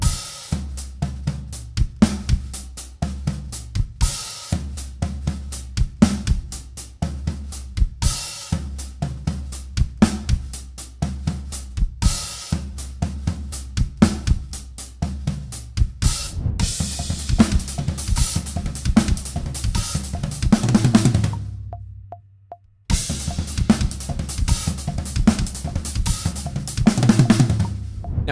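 Drum kit groove with lead hand on the floor tom, weak hand on the hi-hat and kick drum underneath, loud repeated patterns with brief pauses, a short break near the end before the beat resumes.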